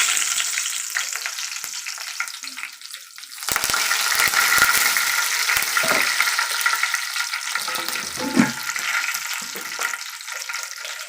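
Curry leaves dropped into hot oil sizzle and crackle loudly at close range for egg curry, with a burst of hissing frying that then settles into steady spattering, and no voices.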